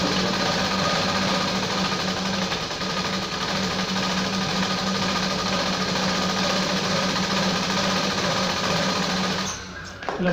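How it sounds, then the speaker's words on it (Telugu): An electric sewing machine stitches a folded sleeve edge on a readymade dress with a steady, close, continuous motor whir and needle chatter for about nine seconds before it stops abruptly. "ఇలా మడిచి కుట్టుకోండి."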